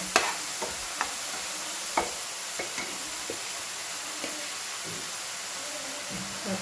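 Cabbage and onion sautéing in a little oil in a pan, a steady bright sizzle with intermittent scraping stirs and clicks of a spoon, close and continuous.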